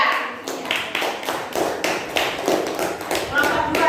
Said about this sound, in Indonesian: Tepuk tangan buat Zia.